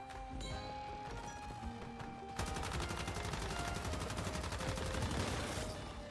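LMG gunfire in the video game Once Human starts with scattered shots, then becomes a loud, sustained automatic stream of evenly spaced rapid rounds lasting several seconds.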